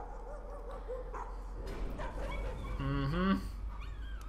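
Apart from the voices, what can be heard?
dog barking and whimpering in the video game Layers of Fear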